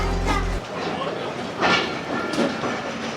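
Shalimar Express passenger train pulling out of Rohri Junction, a steady loud rumble with rhythmic clickety-clack of wheels over rail joints, heard close from inside the carriage.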